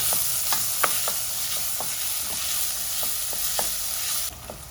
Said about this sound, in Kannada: ಈರುಳ್ಳಿ ಚೆನ್ನಾಗಿ ಹುರ್ಕೊಳ್ಬೇಕು